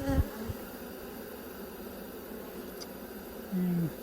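Honey bee colony in an opened hive in winter, a faint steady buzz of many bees running quietly throughout, with a brief louder drone near the end and soft handling noises early on.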